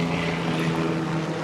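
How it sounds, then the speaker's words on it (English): A steady, droning rotor and engine hum of a medical life flight helicopter fills the air overhead, loud and continuous with no break. "We've got a life flight helicopter above us."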